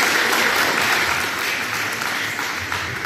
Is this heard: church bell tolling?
no